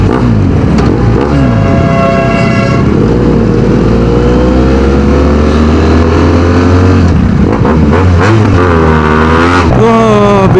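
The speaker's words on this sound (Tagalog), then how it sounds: "binobomba tayo ng jeep" Jeep engine revving close by during a motorcycle ride to Tanay, Rizal, loud rising and falling engine tones mixed with wind rush and a rider's voice talking.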